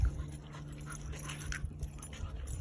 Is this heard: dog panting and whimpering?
yes